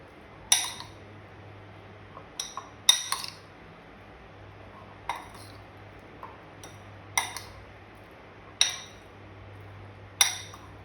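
Paneer being mixed into a chili-powder spice marinade in a bowl, a series of sharp spoon clinks against the bowl at irregular intervals over a quiet background, no talk.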